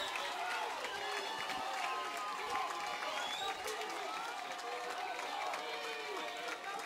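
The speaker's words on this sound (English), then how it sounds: "you can hear the crowd noise up through the mics into the booth" A dense, steady roar from the stands at a college football game, Elmhurst College against Millikin University, carrying continuously at a moderate level for the whole stretch with a broadcast commentator talking over it.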